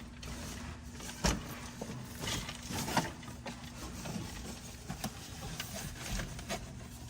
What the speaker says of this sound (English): So let's go ahead and put it in the car and see what it looks like in there. All right, so I'm gonna go ahead and pop it open.